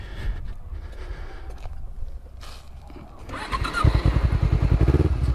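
A green Kawasaki Ninja sport motorcycle idles quietly at first, then its engine is revved hard in the second half, giving loud, rapid pulsing bursts up close.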